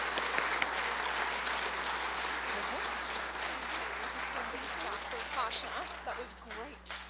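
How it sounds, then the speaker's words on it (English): Applause from the audience at a ceremony, sustained dense clapping throughout, with some voices and cheers rising toward the end. "A clap for you all, not for me."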